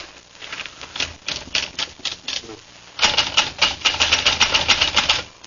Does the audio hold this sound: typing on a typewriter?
yes